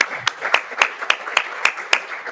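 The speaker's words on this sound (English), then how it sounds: "Round of applause, please." A small audience at a tech summit in Austin gives a round of applause before a coffee break: sparse, evenly spaced hand claps, fairly close, with no talking over them.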